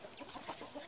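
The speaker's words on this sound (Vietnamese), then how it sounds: "Ôi, gà đấy có phải gà nhà em không?" Chickens cluck in short, busy bursts close by, several birds calling over one another with no talk.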